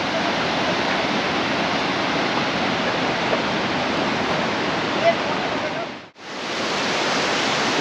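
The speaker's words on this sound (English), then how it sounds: "This side there's cold water flowing, that side there's hot water coming from the mountain" Water rushes continuously at the Jinu hot spring on the Annapurna trek, where cold water flows on one side and hot water comes down from the mountain on the other. It is a loud, steady roar that cuts out briefly once.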